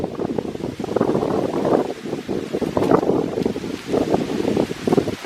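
Strong gusts buffet a hilltop at Iroquois Park on a cold, foggy November morning, a rough, surging roar of wind and microphone buffeting that swells and dips continuously, with no speech.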